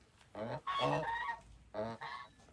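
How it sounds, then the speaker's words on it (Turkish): Geese honk three times in quick succession, loud and close, with brief pauses between the nasal calls over a quiet background. "gazlar hemen suyla oynamaya başladı"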